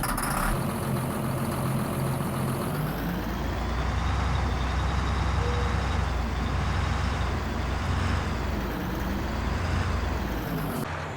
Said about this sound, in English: the rest of these tractors are probably going to sound about the same